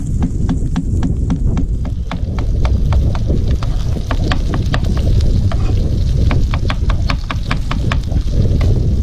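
Shallots, onion and mushrooms frying in a pan, a loud close sizzle throughout with rapid clacking taps from a utensil against the pan in irregular runs.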